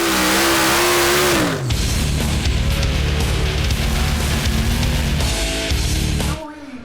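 Tractor-pulling tractor at full throttle on the first day of the 2008 European Tractor Pulling Championships in Norway: a loud, roaring engine that screams high at first, then settles into a sustained heavy drone before cutting off.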